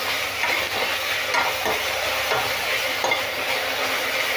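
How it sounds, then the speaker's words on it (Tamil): Drumstick greens with salt fry in a pan, giving a steady dense sizzle with soft, intermittent stirring scrapes, close and even, with no voices. "உப்பு எல்லா இடத்துலையும் பரவுற மாதிரி நம்ம வந்து கீரையை கிளறி விடலாம்"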